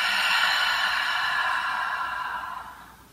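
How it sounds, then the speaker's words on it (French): A long, breathy exhale through the mouth during yoga breathing, airy and steady at first, then slowly fading away over about three seconds, heard alone and close. "Et j'expire par la bouche."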